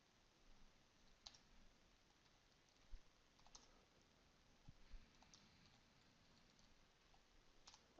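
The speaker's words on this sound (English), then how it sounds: "I need to learn to type the right password" Password typed on a computer keyboard, a sparse string of soft close key clicks, irregular and quiet in an otherwise silent room.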